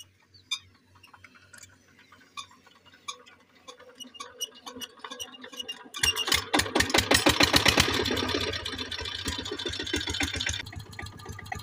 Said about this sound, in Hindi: पट्टा वगैरह लगा दिया जी इंजन के साथ